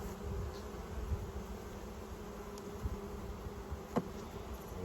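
Honey bees buzz steadily around a newly established homestead hive with early comb building and no queen, a dense continuous hum close by with a few brief louder passes and no talking.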